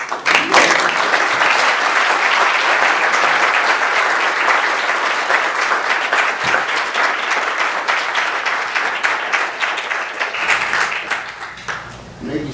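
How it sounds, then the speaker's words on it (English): Sustained audience applause after a conversation event with scientist Rudolf Jaenisch, loud and even throughout before tapering slightly at the end. "You get a round of applause."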